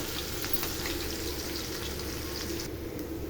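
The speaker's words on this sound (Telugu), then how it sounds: "దాని తర్వాత ఆయిల్ వేడి అయినాక ఉల్లిపాయలు వేసుకుందాము" Sliced onions sizzle in hot oil in a pan for a curry, a steady close crackling hiss that continues without pause.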